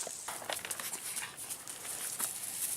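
A puppy makes soft, faint whimpering and snuffling sounds while eating treats, with small irregular mouth noises and no talking, close by but quiet.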